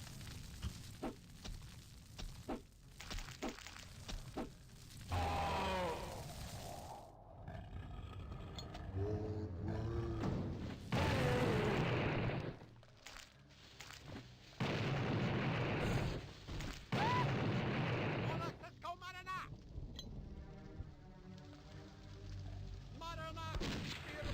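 Repeated dynamite blasts and booming explosions from the retro shooter Blood, heavy bursts recurring throughout amid in-game combat noise, loud and close.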